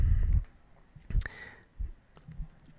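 Computer mouse clicks while working in Adobe Acrobat, a few sharp close clicks scattered irregularly over near silence.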